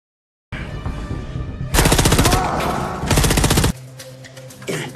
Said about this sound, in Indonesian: terjadi baku tembak di sana